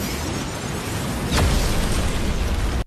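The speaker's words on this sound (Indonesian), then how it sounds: "Matty langsung membuat pelindung untuk melindungi Iris dari ledakan." An explosion sound effect for an animated manga story: a deep, loud rumbling roar fills the clip, then swells into a heavier blast with a brief whooshing sweep midway before cutting off abruptly.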